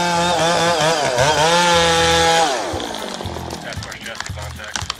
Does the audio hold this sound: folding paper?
no